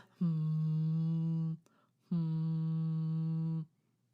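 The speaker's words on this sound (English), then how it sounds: "my favorite giraffe fact is that scientists have discovered that giraffes hum at night" Two long, low, steady giraffe hums, each lasting over a second with a short pause between, smooth and tonal, heard alone without talk.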